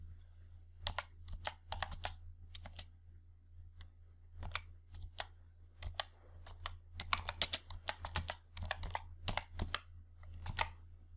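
Keys clatter on a computer keyboard while a formula is entered into an Excel spreadsheet, with bursts of quick keystrokes and short pauses over a steady low hum, close and clear, with no voices.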